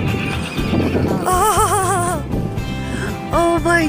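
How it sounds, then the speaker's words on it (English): Close, loud whinnying from a large horse, with two clear wavering neighs over soft snorts and hoof shuffling. "Big horsey."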